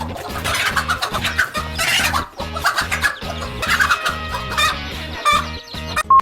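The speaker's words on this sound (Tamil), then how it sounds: "ஆபத்துன்னு வந்தா போதும் கோழியும் கிக் பாக்ஸர் ஆகும்." A mother hen protecting her chicks clucks repeatedly and loudly up close, in quick agitated bursts with flapping and scuffling, and no speech.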